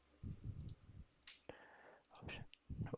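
Computer mouse clicks while using Siemens NX modelling software, heard as several sharp, close clicks scattered between bursts of low, muffled handling noise, with no speech.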